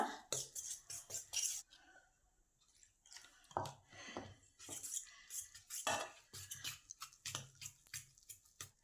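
Aloo paratha batter is whisked in a bowl, a spoon or utensil clattering and scraping against the sides in quick irregular bursts, with wet squishy stirring between the knocks.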